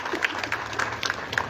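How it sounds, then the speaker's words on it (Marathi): A gathered crowd at a public meeting about a railway line claps in approval of a proposal, with scattered hand claps and crowd murmur forming loose, uneven applause. "एकदा या शब्दाबद्दल टाळ्या आपण वाजून प्रस्ताव पास केला पाहिजे"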